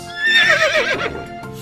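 A horse whinnies loudly and close up in one quavering neigh that rises and then trails off, with no talking.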